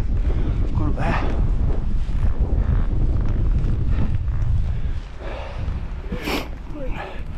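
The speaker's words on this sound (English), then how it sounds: "It's going to be really windy." Strong wind buffeting a microphone on a hillside in the Cheviots, a heavy continuous low roar and rumble with gusty surges, with some faint voice or movement mixed in.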